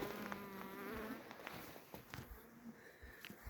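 Honey bees buzz steadily around an opened hive being worked during a merger of weak, varroa-damaged colonies, a close, continuous insect drone with wavering pitch and occasional soft knocks.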